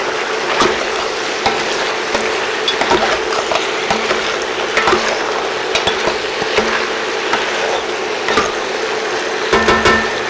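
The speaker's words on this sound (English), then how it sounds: "Give it a stir." A spoon stirs fish sauce into the contents of a cooking pot, a close, loud scraping and sizzling that runs continuously with occasional sharper knocks of the utensil against the pot.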